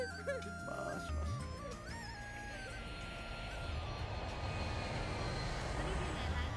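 An Arabian Airlines airplane at Miami International Airport gives off a broad engine roar that swells and stays loud, with voices and tonal sounds heard over it at first.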